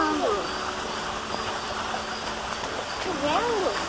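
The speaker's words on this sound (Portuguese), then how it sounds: "barulho do rio" A river on a forest trail in Pedra Branca State Park, Rio de Janeiro, gives a continuous, even rush of flowing water, while voices talk over it.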